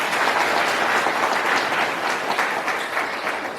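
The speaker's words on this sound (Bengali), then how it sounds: "এর জন্য আমি এসডিএম সাহেবের জন্য আরেকবার জোরদার তালিয়া সবাই।" An audience applauds the SDM at a public gathering, with dense, steady clapping from many hands filling the whole stretch without a break and no voices over it.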